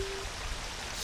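Steady rain summoned by the Song of Storms in Ocarina of Time, a soft continuous patter with no voices, brief and even throughout.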